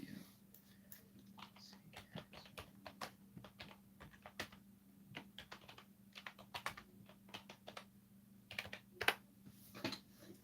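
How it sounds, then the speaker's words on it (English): Rapid, irregular typing on a non-mechanical computer keyboard, with soft close-up key taps in uneven bursts over a faint steady hum. "Love the sound of the keyboard. It's not a full mechanical keyboard."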